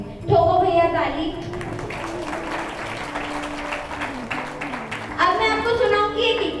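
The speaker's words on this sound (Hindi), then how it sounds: "ठोको भैया ताली" An audience claps after a poem recitation at a convocation ceremony for a Prakrit and Jain studies course. Steady applause fills the middle of the moment, with someone speaking briefly before and after.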